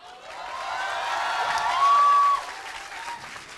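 Audience applause fills a film festival hall during an onstage conversation, a dense, steady clapping that swells slightly in the middle before easing off, with no voices over it.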